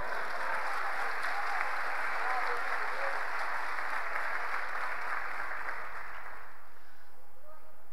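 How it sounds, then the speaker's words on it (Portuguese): A church congregation applauds in steady, sustained clapping that fills the room for several seconds before fading out near the end. "Aplauda o nome do Senhor."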